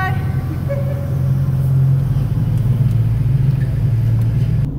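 A pickup truck's engine rumbles in a low, steady drone close by, holding an even, throaty tone throughout with no talking over it.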